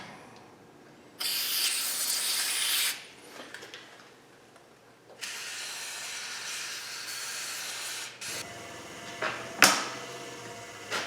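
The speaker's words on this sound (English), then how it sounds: "We're gonna spritz a little something in there first," Lubricant sprays into the axle shaft of a Jeep Compass with ABS, traction and 4WD warning lights on. Two long, loud hissing bursts play up close, followed by clicks and handling noises.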